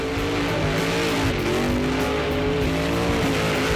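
A muscle car doing a burnout on a pad at high speed, with a loud, sustained engine roar and tyre noise running continuously close up, pitch rising and falling slightly, with no talk over it.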